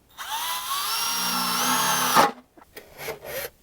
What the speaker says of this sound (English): I'm going to try to drill a hole straight down